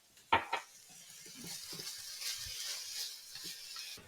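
Sautéed paella ingredients being stirred in a pan, with a couple of sharp utensil knocks at the start and then soft scraping over a low, steady sizzle.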